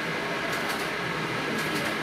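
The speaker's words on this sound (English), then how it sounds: "Here is a video of the rebuilt bomb machine in action." A rebuilt World War II Bombe code-breaking machine runs with a steady, dense mechanical whir and a faint rhythmic clatter throughout, loud and continuous, with no voices.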